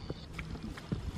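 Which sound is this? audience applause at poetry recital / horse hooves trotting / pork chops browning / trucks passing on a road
horse hooves trotting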